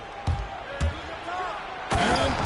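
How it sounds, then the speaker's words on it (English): A slam dunk in the basketball video game NBA 2K26: a few sharp thuds of ball and rim, the last one loudest, under steady commentator talk. "And Thompson slams it home."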